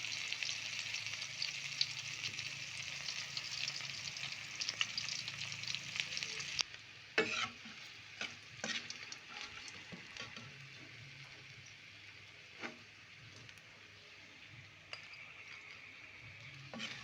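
Banana flower fries in a pan with a steady dense sizzle that abruptly quiets, then gives way to a softer crackle punctuated by sporadic clinks and stirring taps, without any talking.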